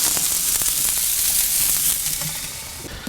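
Salt-and-pepper seasoned scallops and shrimp searing over direct heat on a Kamado Joe ceramic grill, giving a steady, loud, close sizzling hiss that eases slightly toward the end, with no talking.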